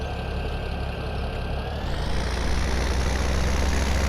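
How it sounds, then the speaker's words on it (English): Tractor engine in Farming Simulator 17 running steadily, a close, loud low rumble with a constant hum that rises slightly in pitch and intensity after two seconds as revs pick up. "Lovely tractor this"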